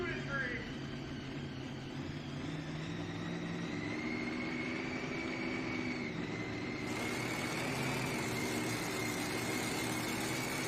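Mini rod pulling tractor from Bristol, Vermont, running a steady engine drone at an NTPA truck and tractor pull in Raleigh, North Carolina, with a rising whine over the rumble and an announcer talking over it.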